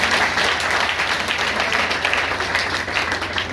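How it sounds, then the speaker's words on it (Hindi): An audience at a career guidance seminar in a hall claps loudly and continuously, a thick, even roar of hands sustained for the whole stretch without voices standing out. "एक जोरदार तालियां उनके लिए।"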